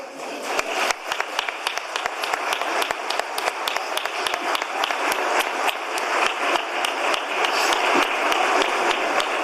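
A crowd at a festival proclamation ceremony gives a long, steady round of applause, dense clapping with scattered louder individual claps throughout.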